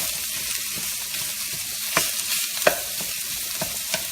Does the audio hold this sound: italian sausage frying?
yes